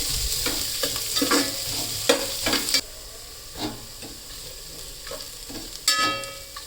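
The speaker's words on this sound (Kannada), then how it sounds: "ಈ ಆನಿಯನ್ ಎಲ್ಲ ಚೆನ್ನಾಗಿ ಫ್ರೈ ಮಾಡ್ಕೊಳ್ಳೋಣ ಕೆಂಪಾಗಬೇಕು" Sliced onions browning in a pan for chicken dum biryani: repeated scraping stirs and clacks of a spoon over a soft, continuous sizzle, fairly quiet and close, with no voices.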